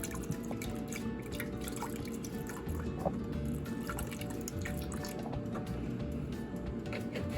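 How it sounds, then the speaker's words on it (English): Milk pours steadily into a blender for a strawberry, blueberry and orange smoothie, a soft continuous liquid trickle with light splashing, close and faint, with no talking. "So I'm adding some milk"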